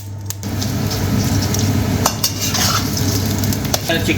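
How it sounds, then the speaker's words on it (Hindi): Chicken frying in about a cup of oil for a stir-fry noodle dish, a steady close sizzle with occasional sharp clinks of utensils, no talking. "I will fry this chicken."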